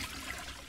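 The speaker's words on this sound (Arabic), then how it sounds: "اشدلكوا السيفون هنا" A toilet flushing in the video game Granny 3, a steady rushing and trickling of water that holds at one level for under a second, with no voices over it.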